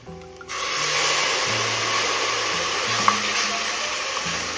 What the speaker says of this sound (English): now I'm going to add the wine to give it a steady glaze